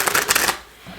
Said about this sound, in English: let's go ahead and get shuffling